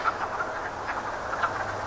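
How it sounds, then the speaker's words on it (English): Frogs croak beside a canal in a brief outdoor chorus, several rasping calls repeating close by over a soft background. "listen to those frogs"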